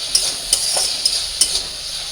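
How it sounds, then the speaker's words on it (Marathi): Chopped onions fry on a hot pan for egg bhurji, a soft steady sizzle broken by a few light metallic clinks and scrapes of stirring. "जोपर्यंत आपला कांदा फ्राय होतोय"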